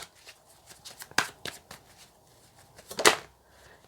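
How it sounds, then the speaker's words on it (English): A deck of tarot cards is shuffled close up, a run of soft papery riffles and sharper slaps coming in uneven bursts. "if you feel like the shuffling is too much, just fast forward through the video until the cards come out"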